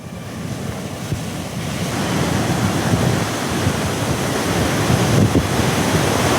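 Rough, surging sea breaking along a shore near Villupuram, a steady loud roar of surf with rising swells and wind noise, no voices.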